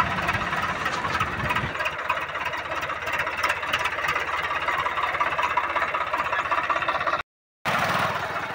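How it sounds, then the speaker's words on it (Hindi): A Swaraj 855 FE tractor engine runs steadily under load while hauling a heavy Yanmar harvester on a road, a continuous loud, rattling diesel drone with vibration, close by and without a break apart from a brief cut near the end. "इतना भारी भरकम ट्रैक्टर के साथ इतना भारी भरकम मशीन जा रहा है"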